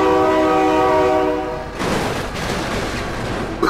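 A train horn in the BeamNG Drive driving game holds one long loud chord, then cuts off and gives way to a rushing clatter of the train passing close by.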